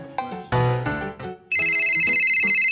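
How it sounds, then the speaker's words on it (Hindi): A loud electronic phone ringtone for an incoming call cuts in midway and holds a bright, steady, repeating tone to the end. Music plays just before it. "ऐसे यार फोन आ रहा।"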